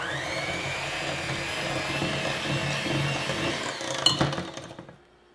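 Electric mixer beating cake batter with eggs and vanilla extract for quick bread: a steady whirring motor hum, close and continuous, then a few clattering knocks before it cuts off into quiet.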